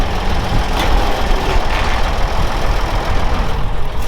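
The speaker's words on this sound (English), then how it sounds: "This dumb tractor does not lower down well at all." A tractor's engine runs steadily at a low rumbling idle while the machine is lowered, a continuous close drone holding even for about four seconds with no talk.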